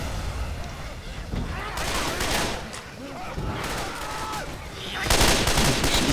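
Dense gunfire rattles through a cooperative zombie shooter game, Left 4 Dead 2, with rapid overlapping shots and bursts from several weapons that surge loudest near the end, while voices talk over the action.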